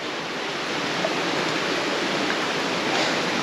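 Steady broadband rush of water flowing at the mouth of a 5-kilometre cave at Wari Chora, Meghalaya, where the passage is flooded; a continuous, loud roar like a stream or small waterfall, with no voices.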